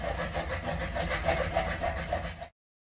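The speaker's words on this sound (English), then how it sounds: "get yourself a blade like this, a little hacksaw, little hand hacksaw" A small hand hacksaw cuts pipe during a washing machine outlet box replacement, making quick, even rasping strokes close by before stopping abruptly.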